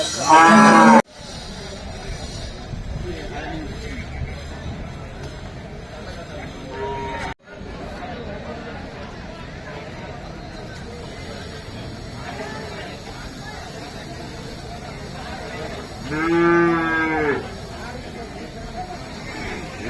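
A cow lows at the Seenapuram cow market in Tamil Nadu, with one short loud call at the start and a fainter one later, over steady market murmur and crowd noise with people talking.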